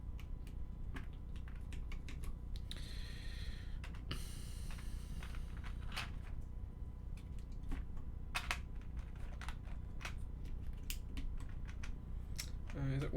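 GMK keycaps being fitted onto a mechanical keyboard, giving scattered sharp plastic clicks and clacks at an irregular pace, near and fairly crisp over a low steady background hum.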